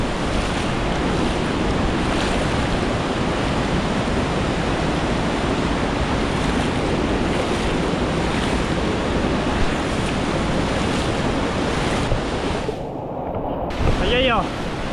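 Loud, steady broadband roar of rushing river water and a waterfall in a valley, continuous and close, with a brief voice near the end.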